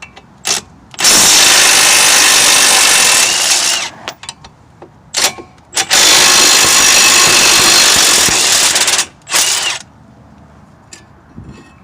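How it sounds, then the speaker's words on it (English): A power tool with a 15mm socket spins off the caliper bracket fasteners on a Chevy Impala front brake, two long loud whirring bursts with short buzzes between them, heard up close. "The caliper bracket is held in place with two fasteners. You'll need a 15mm socket for removal."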